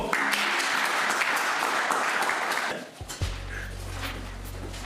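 A burst of dense applause rattles for about three seconds, then cuts off abruptly, leaving a low, steady hum.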